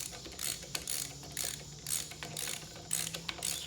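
A ratchet clicks in quick bursts close up while parts are screwed in, a steady series of sharp mechanical ratcheting strokes at a fairly low level with no talk.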